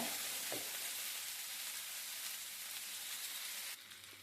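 Onion chutney mixture cooking in a covered pan over a low flame, giving a steady soft sizzle that stays even throughout with no talk, easing slightly near the end.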